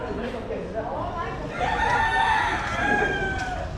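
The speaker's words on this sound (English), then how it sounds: "There's even chickens." Chickens cluck in the open while a rooster crows with long rising calls, all set against outdoor background noise in a Saigon alley.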